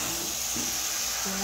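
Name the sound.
mango being stirred with melted jaggery in a pan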